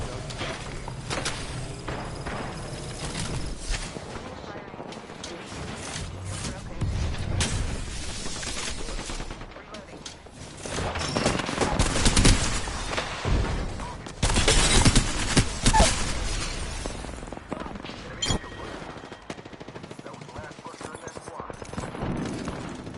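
Bursts of Apex Legends gunfire rattle on and off through a hectic fight, with dense automatic volleys and mechanical clatter that swell in the middle and keep going to the end. Voices probably come and go under the shooting.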